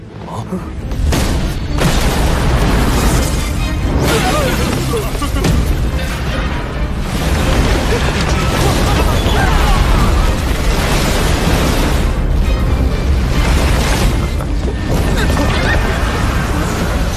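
A time bomb detonates in the animated series Soul Land 2, setting off a loud, sustained roar of booming blasts and crashing debris that rumbles heavily for many seconds, with a voice speaking over parts of it.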